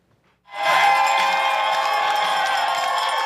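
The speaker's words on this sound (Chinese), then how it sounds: "伫众人的欢呼声之下，比利时选手杜淑恩冲过终点" A crowd bursts into loud, sustained cheering and shouting as a 55-year-old Belgian marathon runner crosses the finish line after completing 366 marathons in a row; the roar starts abruptly after a brief silence and holds steady.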